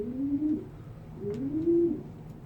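Pigeons coo nearby in two distinct low, rolling calls with a short pause between them, over faint background noise.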